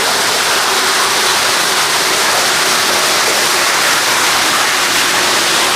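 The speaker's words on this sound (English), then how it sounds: "there's kind of this waterfall." Indoor waterfall inside a museum tunnel, a steady, loud, broadband rush of falling water that continues unbroken and fills the space with no voices.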